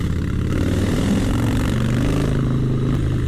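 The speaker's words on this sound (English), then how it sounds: "I'm just going through these turns, applying a bit of good throttle" Harley-Davidson 2017 Softail Slim S engine droning steadily and loud as the motorcycle accelerates through tight turns, a continuous close rumble with no voices.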